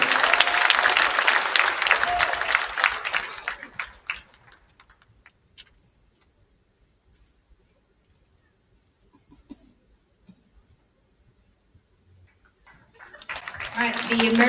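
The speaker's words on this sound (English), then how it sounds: "One more round of applause for all of the FFA award winners." Applause for FFA award winners at a high school scholarship night: a loud burst of clapping fades out over about four seconds, followed by near silence, then clapping swells again at the end.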